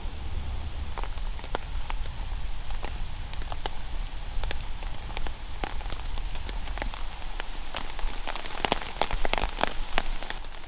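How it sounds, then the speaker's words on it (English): Heavy rain drums on a camping tarp at a wild camp beside Entwistle Reservoir, a dense continuous patter with sharper drops striking close by, steady throughout and with no voices. "I decide to come out when it's absolutely throwing it down with rain. But I'm under my tarp"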